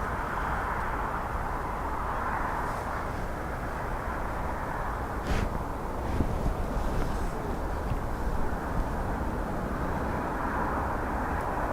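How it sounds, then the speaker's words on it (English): An Aegean Airbus A320neo arrives at a windy Dublin Airport, heard as a steady, moderately distant jet roar with wind noise that holds evenly throughout. "Aegean bringing in a 320 Neo, followed by an ATR from Edinburgh"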